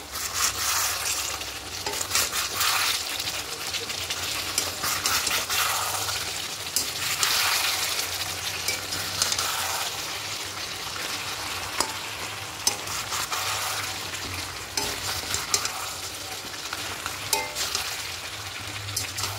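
Chicken sizzling and simmering in a covered pan for a spicy potato chicken curry, a steady loud frying hiss with occasional scrapes of stirring, continuous throughout with no voices.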